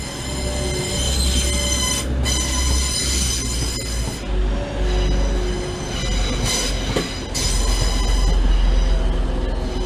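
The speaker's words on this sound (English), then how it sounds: "this first Transpennine Express 185, number 146, bound for Scarborough" Two coupled TransPennine Express Class 185 diesel trains rumble past close by at Manchester Piccadilly, engines droning steadily with squealing wheels and a shifting roar as the carriages go by.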